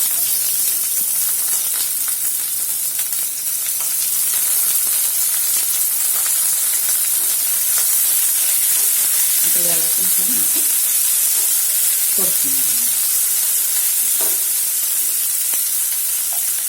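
Onion dropped into hot oil with fried chillies, cooking a Marathi mixed vegetable dish, giving a steady, loud sizzle and hiss throughout, with a few faint clinks and brief soft voice fragments in the middle.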